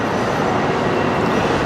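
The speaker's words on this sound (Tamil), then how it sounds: "ரோம்லேருந்து வந்திருக்கு இந்த ட்ரெயின்" A high-speed train arriving from Rome fills a large Italian railway station with a loud, steady rumbling hum that stays even throughout, with no speech.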